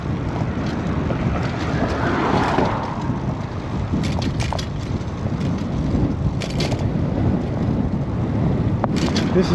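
Ferocious cold wind buffets the microphone during a bike ride, a continuous loud roar and rumble with gusty flutter that lasts the whole stretch.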